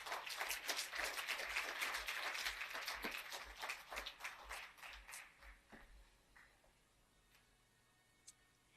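An audience at a corporate event bursts into dense, fairly loud applause that holds steady, then thins to scattered claps and fades out near the end.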